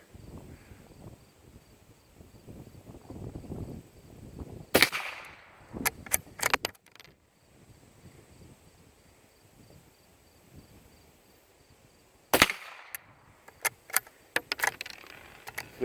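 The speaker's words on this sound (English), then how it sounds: "This is a very pleasant gun to shoot." Norinco JW45 .22 bolt-action rifle firing outdoors: two sharp, loud single cracks several seconds apart, each followed by light clicking of the bolt being worked, over quiet background with faint insect-like chirping.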